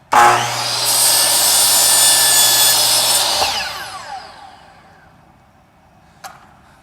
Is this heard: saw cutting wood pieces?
yes